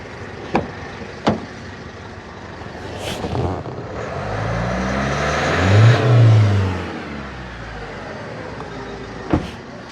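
A car engine, checked for exhaust smoke from the tailpipe, is revved up steadily to a loud peak and then eases back down, heard up close with a few sharp knocks before and after.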